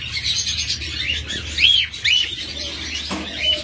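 A pair of lovebirds chirps in quick, high repeated tweets, close and clear over a steady low background hum, with a few wing flutters and no talk.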